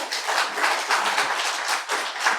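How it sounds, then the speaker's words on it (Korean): Members at a village community meeting clap together in a steady, rhythmic pulse of about four beats a second, moderately loud and close, with no voices over it. "결과에 대해서 우리 박수로 승인합시다."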